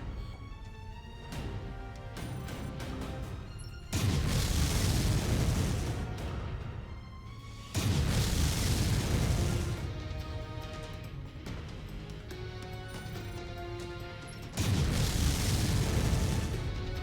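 Loud, heavy booming explosions in Mechwarrior 5 as long-range missiles pound a Demolisher tank, arriving in three big bursts over a steady rumbling battle backdrop with mechanical whines.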